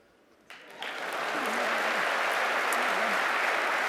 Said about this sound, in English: By show of applause, how many people are here?